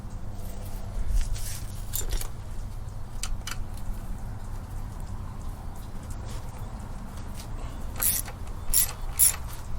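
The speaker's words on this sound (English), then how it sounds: "I need to remove the nut on the crash bar on both the right and the left side" Hand tools work the nut off a motorcycle crash bar, giving a run of close, moderately loud metallic clicks and ratcheting taps with scrapes, no talking.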